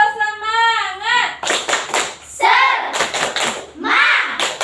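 A classroom of children does a rhythmic group clapping chant, sharp clusters of hand claps in patterned bursts alternating with voices chanting and talking nearby.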